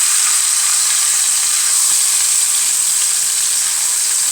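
A turkey leg frying in a pan, a steady bright sizzle with hissing fat that stays loud and close throughout, no talk.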